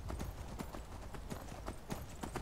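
Horse hooves clip-clop in a steady, even walking rhythm, close and clear, as a rider travels on horseback in the video game Skyrim.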